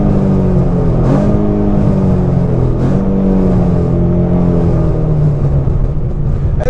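A Ford Mustang engine revs continuously and loudly, its deep rumbling note rising and falling through a couple of throttle blips, with no voices present.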